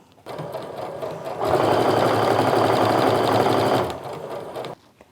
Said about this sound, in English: And we'll just sew the rest of the way down.